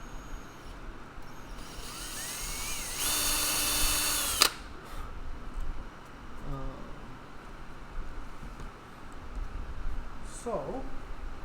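A power drill whines for about a second and a half in a guitar-building shop on a hot day, then stops abruptly, followed by quieter shop noise and brief scraping sounds.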